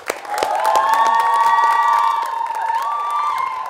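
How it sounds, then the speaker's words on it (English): A studio audience on a Nigerian TV show cheers and whoops loudly for an arriving guest, sustained crowd shouting with applause under it, steady and close. "Ladies and gentlemen, a big round of applause for Guest Chidi Okoro."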